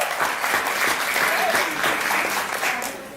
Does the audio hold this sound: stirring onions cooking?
no